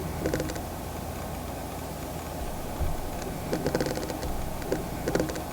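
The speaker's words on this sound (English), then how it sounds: "what you're hearing are the thunks and thuds from the actual lens" Canon 200-400mm f/4 lens motor producing faint intermittent thunks and soft clicking thuds in small clusters, heard close over a quiet household background hum.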